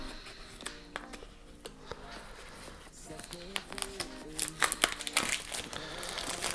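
Paper packaging from a DJI Osmo Pocket camera unboxing being unwrapped, with close, crisp crinkling and tearing that comes in irregular bursts and grows busier toward the end.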